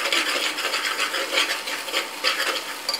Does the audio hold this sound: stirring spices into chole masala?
yes